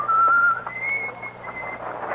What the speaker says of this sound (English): whistling a jaunty tune